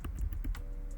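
Quick, light keystrokes on a computer keyboard while Python code is typed, several taps in a second with a faint hum in the background.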